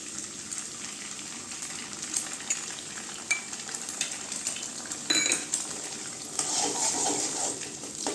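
Eggs stirred into a pan of frying onion and garlic for Tamil-style egg rice. A low sizzle runs underneath while a metal spoon scrapes and clinks against the pan in irregular bursts, close by, with no speech.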